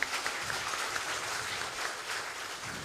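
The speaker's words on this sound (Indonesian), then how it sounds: "Boleh berikan tepuk tangan." Quiet, fairly distant applause from a modest talk-show audience in Bojonegoro, Indonesia, a soft steady patter of clapping with no talking.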